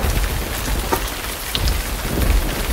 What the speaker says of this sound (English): There's a storm!